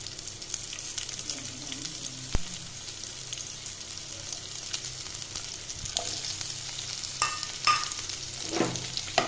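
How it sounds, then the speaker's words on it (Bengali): Onions fry in hot oil in a pan, a soft steady sizzle with a sharp knock early on and scattered spatula scrapes and clinks toward the end, close and fairly quiet. "পেঁয়াজগুলো ভালো করে লাল লাল করে ভেজে নেব"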